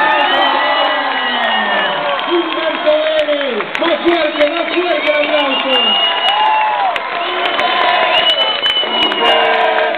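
A large convention crowd at Anicomix 2015 cheers and whoops loudly and steadily for voice actor Humberto Vélez, with shouting voices rising and falling over a continuous roar and some scattered clapping.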